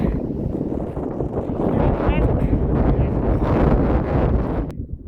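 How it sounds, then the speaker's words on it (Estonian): Strong gusting wind buffets the microphone on an open, exposed mountain ridge along the Hehuan North Peak Trail, a loud continuous roar with rustling swells, easing briefly near the end; a voice talks over it. "Siin on päris tuuline."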